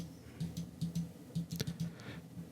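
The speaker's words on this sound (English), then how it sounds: "Just clicking away, click." Computer mouse and keyboard clicks during photo editing on a computer, a run of light, irregular taps and clicks spaced a fraction of a second apart, fairly close, with no talking.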